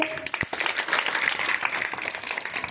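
A crowd claps together in sustained applause at the opening ceremony of a school sports competition, dense and fairly loud throughout the short stretch.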